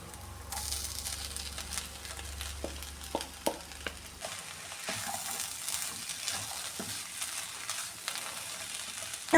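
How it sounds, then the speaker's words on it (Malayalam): Lentils (parippu) added to a frying pan and stirred while cooking a thoran, a soft sizzle with scattered scraping and tapping of the spoon against the pan, quiet and close. "ഇനി ഇതിലേക്ക് ഈ പരിപ്പ് ചേർത്ത് കൊടുക്കാമേ"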